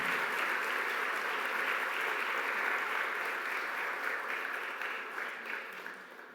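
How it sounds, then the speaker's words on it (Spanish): Sustained applause from a church congregation, a dense steady wash of many hands clapping that fills the room and tapers off slightly near the end. "Un fuerte aplauso a nuestro Señor y tome su lugar."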